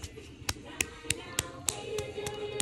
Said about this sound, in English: Daddy gonna clap them hands